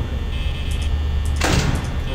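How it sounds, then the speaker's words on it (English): A door in Five Nights at Freddy's opens with a brief, loud mechanical whoosh partway through, set against a steady electrical hum. "Open the door and check the light."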